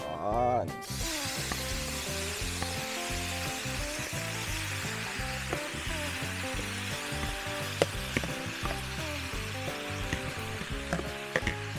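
Sisig fries in margarine in a pan with a constant crackling sizzle and a few sharp pops, set against steady background tones.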